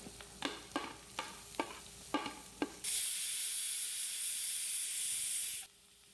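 Chopped medium onions with salt fry in a pan: a few sharp stirring scrapes and taps, then a loud, steady close-up sizzle that holds for about three seconds before cutting off.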